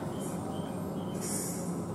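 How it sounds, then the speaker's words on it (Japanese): An out-of-service train standing at platform 2 of Izumi Station gives off a steady, moderately loud rumble, with brief high hissing bursts over it and no voices. "ただいま2番線に停車中の列車は回送列車です。"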